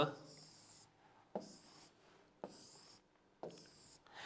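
A marker or pen scrapes across a board while a K-map grid is sketched by hand, in four close, rubbing stroke bursts about a second apart, each starting with a sharp tap.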